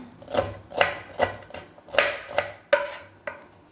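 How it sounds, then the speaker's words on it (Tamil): Big onions being finely chopped with a knife on a cutting board, about eight crisp, evenly spaced blade strikes in a steady rhythm, close and clear with no talking. "பெரிய வெங்காயம் 3 எடுத்து நல்லா பொடியாக கட் பண்ணிக்கலாம்."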